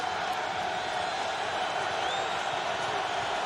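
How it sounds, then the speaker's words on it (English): A New England Patriots home crowd at a 2003 NFL AFC divisional playoff game against the Tennessee Titans, a steady distant roar of cheering that holds level throughout under faint broadcast ambience. "New England crowd making some noise"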